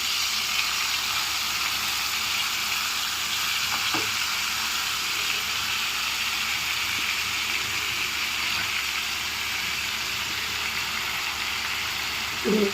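Marinated chicken legs fry over low flame in a non-stick pan, giving a steady, even sizzle with a few faint clicks and stirring knocks, and no voices.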